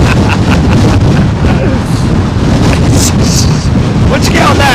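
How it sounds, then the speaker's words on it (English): Strong gusty wind at London Heathrow Airport buffets the microphone in loud, rumbling blasts that rise and fall throughout, with brief faint sounds under it. "Carol Van Niekerk, latest METAR 29, 28 gusting 39, 32 gusting 45 miles an hour."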